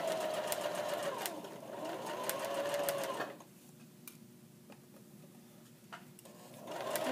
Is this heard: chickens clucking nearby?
no